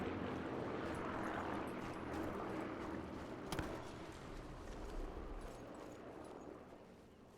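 Propeller airplane droning overhead in the Sniper Elite 4 video game, a low continuous rumble that swells and slowly fades, with one sharp loud crack partway through.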